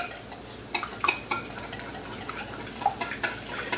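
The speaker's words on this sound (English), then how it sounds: "I'm beating two eggs." A fork or whisk clinks against a bowl as two eggs are beaten for a blue crab omelette, in quick irregular taps over a soft kitchen background hiss.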